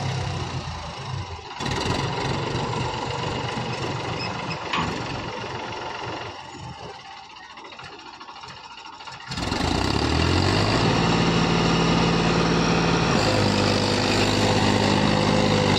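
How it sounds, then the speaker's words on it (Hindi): A Mahindra 295 tractor engine runs outdoors, a moderate mechanical rumble that swells partway through into a louder, steady droning roar held to the end, with no voices. "295 देखते हैं इस बार निकल पाता है नहीं।"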